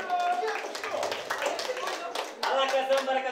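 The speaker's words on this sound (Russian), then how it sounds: "Аплодисменты, еще громче!" Audience clapping at a Brazilian Zouk dance event, moderately loud and uneven, dipping briefly before swelling again while a voice talks over it.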